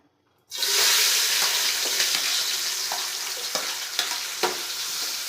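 Oil and ghee in a pan for chicken biryani burst into a loud, steady sizzle after a brief moment of near silence, with a few small pops and crackles over the hiss and no talking.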